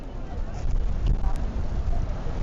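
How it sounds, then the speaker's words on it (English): Steady, heavy rumbling buffets of wind hit the microphone throughout at an outdoor high school football game, a constant low roar with no pauses. "It is super windy"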